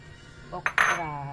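A utensil clinks against a pot of sinigang soup with tilapia and pepper, with a few quick scraping taps and one brighter metallic clink near the middle, close and otherwise quiet.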